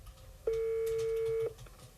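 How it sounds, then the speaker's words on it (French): A single steady electronic telephone tone sounds for about one second while a Chinese phone number is being called. It is clear and close, over low background noise. "Nous essayons d'appeler le numéro de téléphone chinois"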